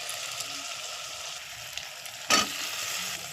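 A spice paste with turmeric fries and sizzles in a pan while being stirred, giving a steady, moderate hiss with a brief louder scrape-and-crackle burst near the end.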